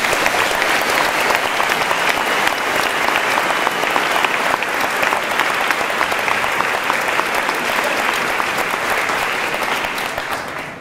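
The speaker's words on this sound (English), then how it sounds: "Let's give them another round of applause." Large audience at a high school graduation ceremony giving the graduating class a long, dense round of applause, steady and loud throughout before tapering slightly at the end.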